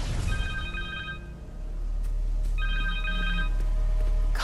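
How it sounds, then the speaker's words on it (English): A cell phone rings in the Spider-Man 2 video game, two bursts of a trilling electronic ring separated by a short gap, loud and clear over a low steady background hum. "Connor's cell phone."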